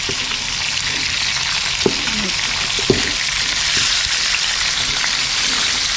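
Meat frying in a pan for adobong kangkong, a loud, steady hiss of oil close by with a couple of faint clinks partway through and no talk.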